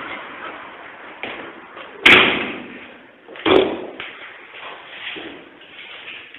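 An indoor door swings shut with a sharp slam in a quiet basement room, followed a moment later by a second thud, with soft shuffling and room noise around them and no talking.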